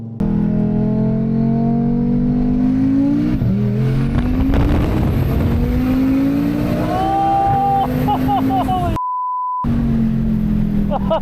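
An Audi RS3 race car accelerates hard through its gears during a race, its engine note climbing, dropping at each shift and climbing again, loud and close throughout, with a brief electronic beep near the end.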